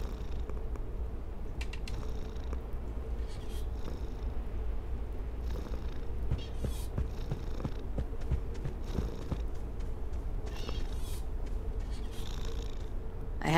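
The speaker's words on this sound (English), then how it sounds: "I have no use for a cat." A cat purrs in the video game Bear With Me: The Lost Robots, a steady low rumbling purr that runs close and continuous throughout, with faint clicks over it.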